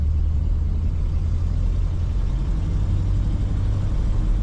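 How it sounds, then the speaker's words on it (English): A 1949 Cadillac Series 61 Sedanette accelerating, heard from inside as a steady low engine rumble with road and wind noise, loud and continuous without talk. "Accelerates as you would expect for a 49 Cadillac."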